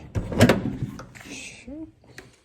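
Rear garage doors of a camper van unlock and swing open, with a clunk of the latch, a creak and rattling metal movement, close by, with a voice speaking briefly.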